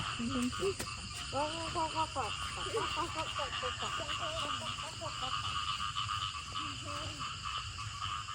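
Frogs call repeatedly during rain in a rural Thai setting, with a steady insect-like hiss and patter of rain behind them and a voice speaking near the start.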